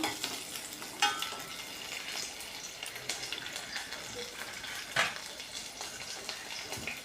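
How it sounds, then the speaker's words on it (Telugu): Garlic frying in a little oil in a pan, a soft steady sizzle with a few clinks of a spoon stirring, fairly quiet and close with no talking. "సరిపోతుంది ఇందులో తెల్లుల్లి కొంచెం వేగనిద్దాం"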